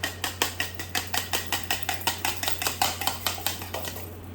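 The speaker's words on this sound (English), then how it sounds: "I'm gonna beat this egg real good" An egg is beaten for mac and cheese with a utensil against a bowl: fast, even clinking strokes, about four per second, close and steady over a constant low hum.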